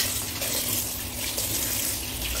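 Tap water running steadily into a sink while raw chicken fillet is washed, a continuous close gushing hiss with a low rumble beneath and no voices.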